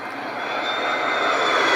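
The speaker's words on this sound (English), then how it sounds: "Airplane flyby." An airplane flyby sound effect plays as a short, smooth engine drone that swells slightly in loudness over under two seconds.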